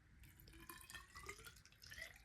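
Water from a pitcher pours into a small pipe for a potted plant, gurgling and dripping steadily at close range, quiet throughout with no talk.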